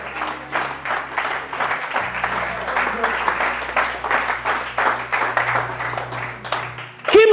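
A church congregation applauds and cheers in praise of the Lord, a dense, sustained wash of clapping from many hands with voices rising through it, swelling toward the end.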